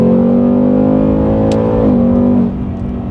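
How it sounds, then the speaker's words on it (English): A 2021 Ford Mustang Mach 1 with Valvetronic exhaust in sport mode, its V8 exhaust droning steadily under load, then dropping pitch with a quick downshift shift before settling, loud and close. "That exhaust sounds great."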